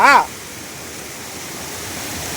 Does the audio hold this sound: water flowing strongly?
yes